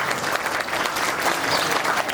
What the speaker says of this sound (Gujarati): મેં એકવાર તો તમે તાળીઓ બજાડી